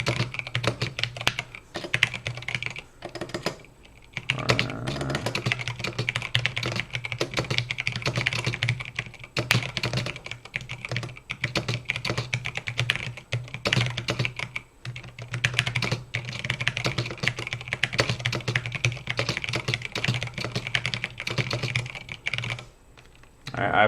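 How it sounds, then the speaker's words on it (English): Loud, rapid keyboard typing close up, clattering keys in continuous bursts with a few short pauses, no voices. "I do know I type a little loud"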